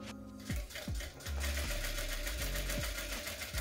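Sewing machine stitching a flying geese quilt basket, with a fast, steady mechanical whir and rhythmic needle clatter, brief slowdowns for backstitching, close and fairly quiet.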